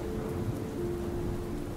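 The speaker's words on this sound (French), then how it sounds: "Dehors, il pleuvait à torrents" Heavy rain pours down outdoors, a steady, dense hiss of downpour that holds evenly throughout with no voices.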